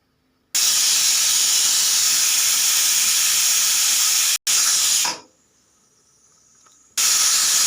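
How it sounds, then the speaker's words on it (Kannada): A pressure cooker on the stove blasts a loud, continuous jet of hissing steam, cuts out briefly, tails off into near silence, then bursts back at full force. "ಈ ರೀತಿ ಮೂರು ವಿಸಿಲ್ ಆಗಬೇಕು"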